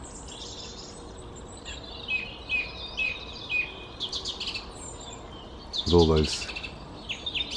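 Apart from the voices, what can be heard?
various wild birds calling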